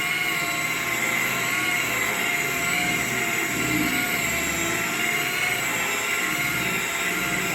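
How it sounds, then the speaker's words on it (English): Rotary polisher with a wool pad spinning at about 1400 RPM, a loud steady close whine and drone that holds constant throughout without talking. "I'm going to try to get that finish up as high as I can with the wool pad."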